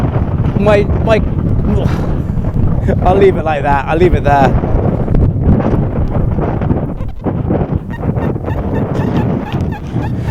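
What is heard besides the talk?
wind blowing into microphone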